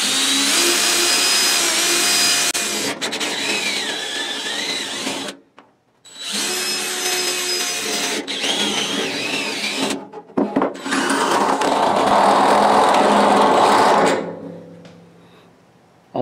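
A power drill whines loudly in several long bursts while drilling holes in a rusted 1967/68 Mustang fender, with brief pauses between them, and the motor winds down at the end.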